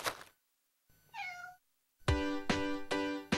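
A cat meows several times, close and clear, in short bright bursts separated by brief silences, the last calls louder and strung closer together.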